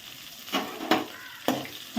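Curry leaves, dried red chilli, crushed garlic, ginger and green chilli crackle and sizzle in a pan of oil for rasam, with several quick stirring scrapes over a constant close hiss.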